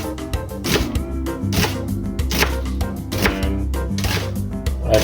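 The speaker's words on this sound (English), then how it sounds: "cutting the onions is the first thing we do" Someone chops onions into small squares with a knife on a cutting board in a home kitchen while making tomato meatballs. The sharp, close taps come in quick rhythmic bursts separated by brief pauses.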